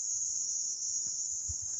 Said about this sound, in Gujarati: તમરા બોલે